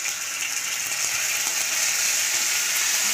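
Ginger-garlic paste frying in hot oil with cardamom and whole cumin over a lowered gas flame, giving a loud, even, continuous sizzle that holds steady from start to finish.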